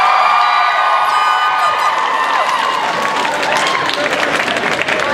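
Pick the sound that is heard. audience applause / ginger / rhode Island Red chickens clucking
audience applause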